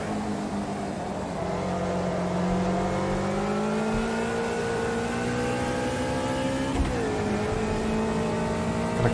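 A Lotus race car engine in Automobilista 2 revs hard and climbs steadily in pitch with a rising harmonic whine, loud and close, then shifts briefly around the seventh second and keeps pulling, with no voices.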